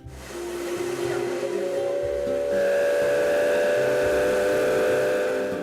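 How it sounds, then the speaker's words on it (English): A steam whistle on the smokestack of the Virginia V steamboat blows one long, loud, sustained blast, hissing and tonal, with a second higher pitch joining partway through. "The red one is for our 2 whistles that are on the smokestack back here."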